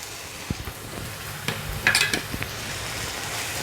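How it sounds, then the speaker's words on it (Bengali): Prawn curry with potato and pointed gourd being sautéed in a pan after tomato sauce and yogurt go in, a soft sizzle under repeated spatula scrapes and knocks against the pan. "এবারে কষবে খুব ভালো করে কষে"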